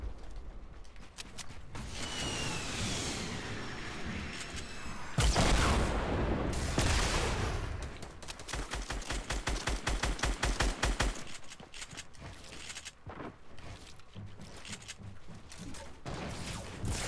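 Gunfire rings out in the video game Fortnite: rapid bursts of automatic shots and single cracks over continuous game ambience, with a louder sustained volley in the middle of the stretch.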